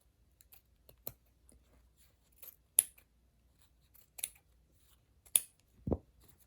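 Sharp scissors snip through fabric trim around a piece of Battenberg lace, several distinct crisp cuts spaced a second or so apart in a quiet room.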